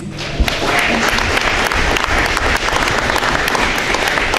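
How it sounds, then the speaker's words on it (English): A school board meeting audience applauds a dance team's first-place jazz and pom wins: loud, close, thick clapping that holds steady throughout. "A really big round of applause"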